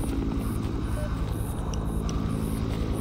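Steady, loud rotor drone of a video-game helicopter, a continuous throbbing wash with faint beeping tones on top.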